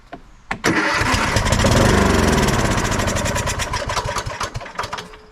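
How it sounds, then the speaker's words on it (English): A Toro LX427 lawn tractor engine cranking with a clack, then catching and running loudly up close, its sputtering rhythm roughening and slowing as it settles toward an uneven idle. "All right, let's crank this again."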